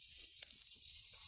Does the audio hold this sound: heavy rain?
no